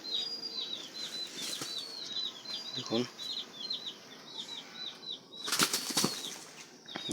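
A sick, dying Tiger-breed chick on a poultry farm beats its wings in short, sudden bursts near the microphone. Thin, high chick peeps repeat throughout, and a voice is heard briefly.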